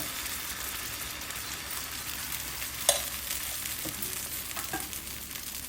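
Dosa batter poured onto a hot pan with a spoonful of oil fries with a steady, close sizzle throughout, broken by one sharp click and a couple of faint utensil taps.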